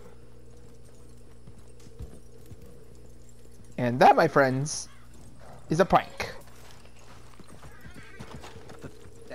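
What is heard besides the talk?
horse hooves clip-clopping in video game Red Dead Redemption Online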